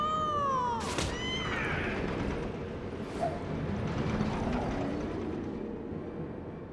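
A black cat in the video game Final Fantasy XIV Heavensward meows with a rising, drawn-out call, followed by faint softer cries over a steady background ambience.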